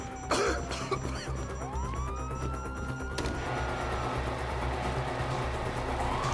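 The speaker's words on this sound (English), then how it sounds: "you hear that? Sirens!" A wailing police-style siren from the video game Grand Theft Auto V rises and falls over a dense, busy background of engine rumble and street noise, loud and continuous throughout.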